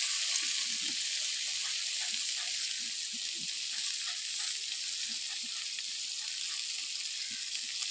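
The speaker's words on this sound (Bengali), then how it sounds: "ভেন্ডি আমার ভালো করে ভাজা হয়ে এসছে।" Chopped okra (bhindi) fries in oil in a pan, a steady hissing sizzle with faint scraping of stirring now and then, continuous and fairly soft throughout, with no talk over it.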